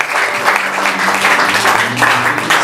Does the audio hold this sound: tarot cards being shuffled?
no